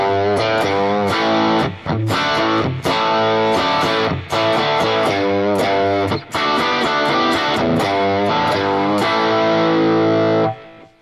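Distorted electric guitar plays an intro riff, a loud, dense chugging pattern with short gaps between phrases, alone without any talking.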